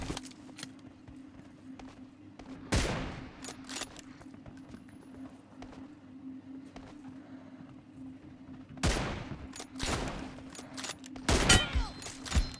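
Gunfire in a first-person shooter video game comes in sharp bursts, with several loud volleys near the start, middle and end over a steady low game hum and occasional footstep-like taps.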